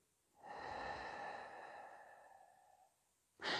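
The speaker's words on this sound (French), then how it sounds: "Vous allez respirer profondément, calmement, par le nez quand vous inspirez et par la bouche quand vous soufflez." Slow, deep exhalation through the mouth during a morning stretching routine, one long soft breathy sigh lasting over two seconds, close and quiet, followed by a brief sharp breath at the end.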